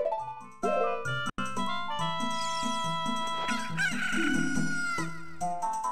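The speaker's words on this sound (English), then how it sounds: "Oh, I have a chicken!" A rooster crows in the video game The Legend of Zelda: Ocarina of Time: a loud, drawn-out cock-a-doodle-doo rises over game music and sustains for several seconds before fading.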